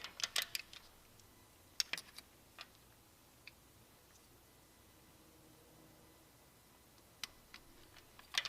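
Faint, sparse clicks from a torque wrench tightening valve cover bolts on a 2012 Honda CR-V, with a short cluster at the start, a few scattered single clicks, a long quiet stretch, then another pair near the end.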